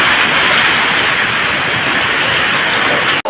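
Heavy rain pours steadily outside with gusting wind, a dense continuous hiss close and loud that holds the whole stretch, then cuts off abruptly at the very end.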